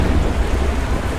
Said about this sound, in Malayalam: ആ ഒരു മഴയും ആ ഇടിയും മിന്നലും എൻ്റെ പൊന്നെ